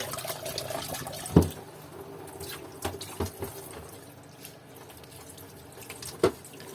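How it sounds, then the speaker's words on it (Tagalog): Water drips and runs from a kitchen tap in a steady trickle, with a few louder clinks and knocks at intervals, close by and fairly quiet. "Malakas naman yung tulo"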